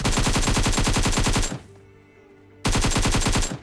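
Rapid automatic gunfire in the mobile shooter BGMI bursts loud and close for about a second and a half, drops to a brief lull with faint background, then resumes in another sustained burst.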